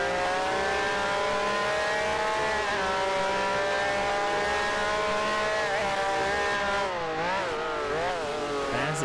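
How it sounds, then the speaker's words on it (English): Ferrari race car engine in a sim racing game, a loud sustained high-pitched roar that rises and falls through gear changes as it closes in from behind, heard alone. "Now we've got a Ferrari coming up behind me again."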